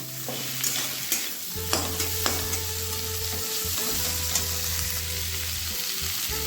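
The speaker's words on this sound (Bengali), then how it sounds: "ভেজে রাখা চিংড়ি মাছগুলো দিয়ে দেবো চিংড়ি মাছটা দিয়ে খুব ভালোভাবে আমি আরেকটু কষিয়ে দেবো" Small fried shrimp being stir-fried in a pan for a Bengali pui shak chorchori with Malabar spinach, giving a continuous close sizzle with intermittent spatula scrapes and knocks against the pan, no talking.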